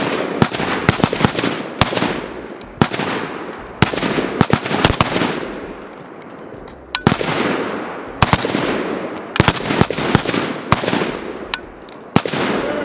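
An AK-47 rifle with iron sights fires on an outdoor training range at Thunder Ranch. Loud, sharp shots crack out at uneven intervals, some in quick pairs and others spaced apart, and each one leaves a decaying echo.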